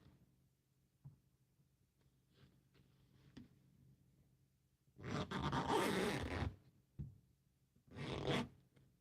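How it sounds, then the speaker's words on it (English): A zipper on a fabric bag is pulled in two quick bursts, a longer rasping run followed by a shorter one, close and fairly loud against a quiet room with a few faint taps. "it's just the zipper."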